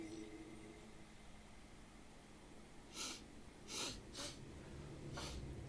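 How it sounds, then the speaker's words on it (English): Several quick, breathy nasal sniffs in a row, fairly close and soft over a faint background hiss. "Sorry with the sniffles."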